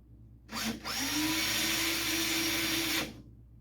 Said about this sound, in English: I'm gonna drill a small pilot hole